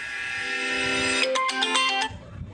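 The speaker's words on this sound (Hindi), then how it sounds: "अगर आपको रिंगटोन सुनाई थी" A phone ringtone plays from a Mi A1 handset running a ZUI 9.0 Pie build, a short bright melodic tone sequence that starts steady, breaks into quick chiming notes, then cuts off abruptly.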